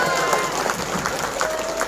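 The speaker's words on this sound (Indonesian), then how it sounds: "Ya, tepuk tangan dulu" Brief applause from a gathering at a kindergarten event, a short burst of scattered clapping that sits fairly low in the mix, with some voices mixed in.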